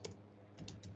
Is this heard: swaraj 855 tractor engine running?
no